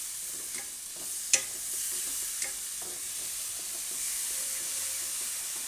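Tomato puree goes into a pan of frying fenugreek leaves, producing a steady close hiss of sizzling with a couple of sharp spoon clicks early on and no talking.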